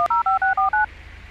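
A phone dials a call in GTA 5 during a police patrol mod, a quick run of six clear DTMF keypad tones in even rhythm, loud and close, followed by quiet room tone.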